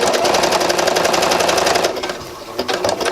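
A sewing machine runs steadily, top stitching a seam on a sweater with a presser foot, a fast even mechanical chatter that is loud and close, then eases and restarts in a short stuttering run near the end.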